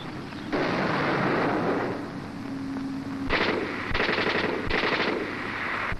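A tank gunner returns fire with a machine gun during an infantry and tank engagement: a loud, close burst of continuous rattling fire, then a pause and several shorter rapid bursts.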